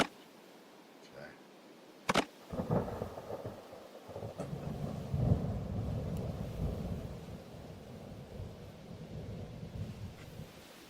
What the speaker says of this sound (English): They have the thunderstorm going in the background and stuff.